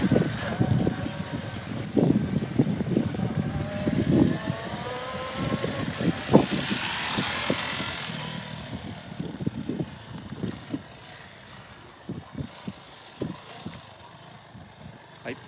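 A motorcycle rides through a practice corner during a police motorcycle safety demonstration, its engine rising and falling as it goes by at moderate distance, then fading off, with someone talking over it.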